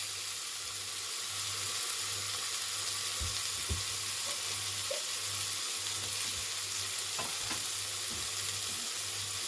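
Fish fillets frying steadily in an oil-filled pan over a low flame, a continuous soft sizzle with a few faint clicks and stirs, close and alone with no talking.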